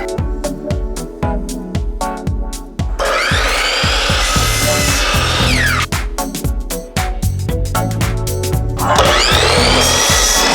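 A power saw cuts wood pieces for a bathroom wall in a DIY remodel: rapid rasping strokes come in bursts, then a loud continuous high whine as the blade bites, repeated close up with no talking.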